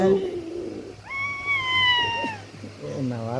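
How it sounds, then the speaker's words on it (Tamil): A thin, high kitten meow rises and slowly falls, close by, with a person's voice speaking just before and after it. "பூனைக்குட்டி"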